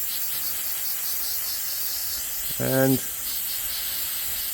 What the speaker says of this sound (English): So we're just going to spray the outside here a bit.